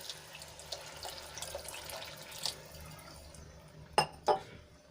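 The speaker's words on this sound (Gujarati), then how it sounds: "આપણે એમાં પાણી એડ કરીશું તો અહીંયા હું મોટો એક ગ્લાસ ભરીને પાણી લઉં છું" Water poured from a large glass into a pan of green chickpea and paneer curry trickles and splashes quietly and steadily, ending with two sharp glassy clinks close by.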